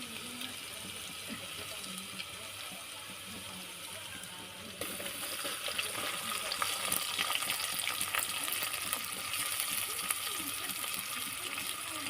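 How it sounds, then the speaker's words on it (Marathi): Ginger, garlic and onion are added to hot oil for a tempering, and a steady frying hiss swells noticeably partway through, with no talking. "फोडणी टाकते मी आता त्याला अद्रक लसूण टाकले आणि कांदा टाकते त्याच्यामध्ये"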